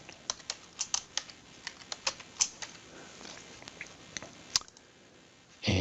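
Someone types on a computer keyboard, quick, irregular key clicks close by that slow and thin out, ending with a sharper tap and a short thump.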